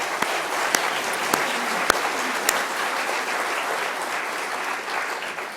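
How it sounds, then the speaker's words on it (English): Sustained applause from a large lecture audience, a dense steady wash of clapping with a few sharper individual claps standing out, continuous throughout at moderate level. "I'm wondering if we can give them a round of applause for all the work they do"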